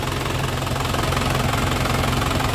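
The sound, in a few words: Isuzu Panther 1998 diesel engine running with dipstick out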